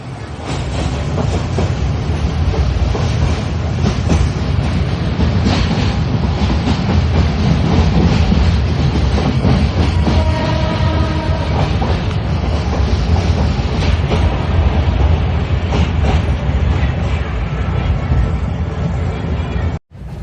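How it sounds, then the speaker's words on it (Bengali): The Chattogram Mail, a 2 Down train leaving Dhaka Cantonment station toward Chattogram, runs along the rails with a loud, continuous rumble, rhythmic clickety-clack of wheels on track joints and faint squeals, heard close from on board. "ঢাকা ক্যান্টনমেন্ট রেল স্টেশনের মেন লাইন থেকে ছেড়ে যাচ্ছে চট্টগ্রাম অভিমুখী 2 ডাউন চট্টগ্রাম মেইল"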